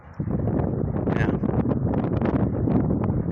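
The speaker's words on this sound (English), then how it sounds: "you got a wind coming in" Wind gusting at an airport, buffeting the microphone with a steady, loud, rumbling roar that persists throughout.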